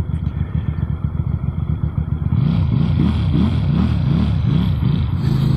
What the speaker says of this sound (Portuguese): Tem um som de escape que ajuda e muito a sentirem que vocês andam aí